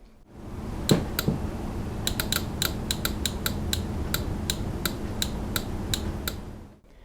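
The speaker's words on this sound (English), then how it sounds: "you're going to hear the relay click, especially if it's an old school one like this," Sharp clicks from an old-school mechanical relay on a Suzuki DR650 motorcycle, about fifteen crisp ticks in an irregular rhythm, close up over a steady low hum, with no talking.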